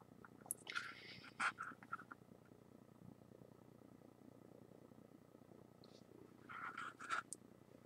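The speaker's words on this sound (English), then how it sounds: "That would be my cat." A house cat purrs softly in the background of a quiet room, a low continuous rumble faint and steady, interrupted by a few brief higher squeaks and rustles near the start and end.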